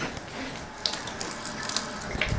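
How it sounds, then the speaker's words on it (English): Water flushed through a cracked sewer pipe under a lawn during snake cleaning runs as a steady, broadband rushing hiss, close and continuous, with a few faint knocks. "you run water, which I'm running it up here now"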